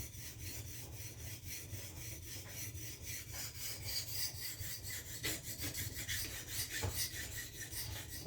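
A knife is worked on a sharpening stone by hand in quiet, steady back-and-forth rasping strokes, close and fairly soft, with no talking.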